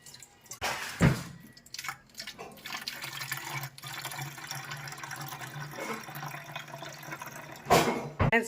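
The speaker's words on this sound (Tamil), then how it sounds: "ஸ்ப்ரே பாட்டிலுக்குள்ளே ஊற்றிடலாம்." Strained chili spray liquid pours into a plastic spray bottle, a close, steady trickle with a few sharper splashes and handling knocks at the start and end.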